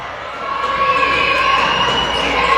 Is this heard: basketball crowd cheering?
yes